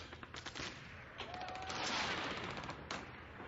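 War movie battle on TV with rapid bursts of gunfire and booming cannon fire, loud and continuous, heard through a television in a room.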